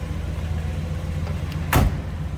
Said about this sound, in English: The door closes nicely.